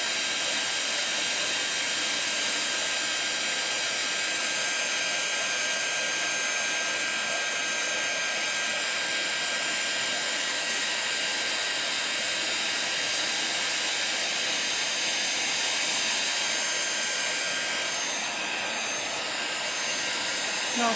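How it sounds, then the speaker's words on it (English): Heat gun blowing steadily at close range to melt embossing powder on card, a continuous loud whooshing hiss holding evenly throughout with no breaks. "only move your heat gun as you see the powders melt"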